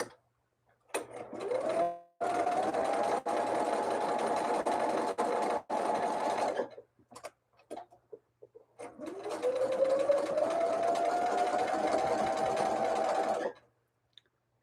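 A sewing machine stitches a star quilt block in two long runs, each whirring up to speed and holding steady, separated by short pauses with clicks and handling noises, close and fairly loud with no talk.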